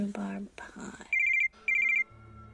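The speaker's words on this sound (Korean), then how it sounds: "떠나려는 아침 오스카의 전화가 걸려옵니다." A telephone rings with an incoming call, two short electronic trilling bursts separated by a brief pause, heard just after a person speaks.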